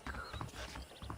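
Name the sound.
horse hooves clip-clopping in video game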